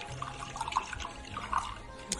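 Liquid poured into a glass at a casual gathering, a soft trickling splash over a couple of seconds, moderately quiet.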